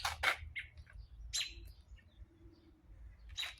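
A bird aggressively calling in sharp, scratchy bursts of chirps, several quick calls at the start, another burst midway and one more at the end, loud and close over low background rumble.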